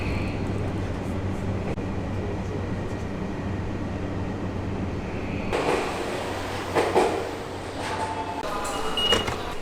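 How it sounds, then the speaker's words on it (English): A Rapid Limited Express train in Japan hums and rumbles steadily. Later come louder rattles and sliding-door sounds, as if from inside a car. "Gotta make sure I get on the Rapid Limited Express train."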